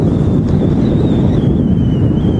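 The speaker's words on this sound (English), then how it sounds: "It is very windy though." Strong gusts buffet the microphone at Manchester Airport, a loud, continuous low roar of wind noise with no pauses and a faint high tone running underneath.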